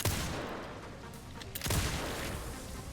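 Heavy gunshots in the video game Resident Evil Requiem, a loud broadband blast near the start and another sharp burst midway over a dense, roaring game background.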